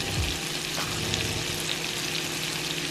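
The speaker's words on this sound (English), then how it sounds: "our fish almost fried" Floured and egg-dipped mahi-mahi and tuna steaks fry in hot butter in a pan, a steady close sizzle with soft crackle running throughout, with a brief stirring or turning clatter near the start.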